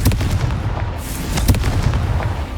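Confringo blasting spell from the Hogwarts Legacy video game, a loud booming explosion with a heavy low rumble and crackling debris that rolls on for a couple of seconds, with no speech.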